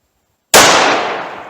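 A single sharp gunshot from a .357 Magnum revolver loaded with Remington HTP ammunition, loud and close after a silence, with a long ringing decay.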